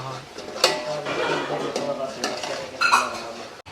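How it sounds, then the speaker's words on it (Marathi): Onions being stirred and roasted in a pot on a wood stove, a metal spoon scraping and clinking against the pot in uneven strokes, close up, with someone talking over it. "भाजून घेतोय आता कांदा आपण मस्त असा लालसर भाजून घ्यायचा ना हो थोडा वेळ हलवून घ्यायचा आहे कांदा"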